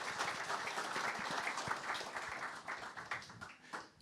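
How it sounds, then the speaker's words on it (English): A lunchtime crowd at the Meath National Hunt season launch gives a panel a round of applause. The many hands make a steady, fairly distant wash of sound that thins slightly toward the end. "So a big warm round of applause for our panel here on Meath Lunchtime."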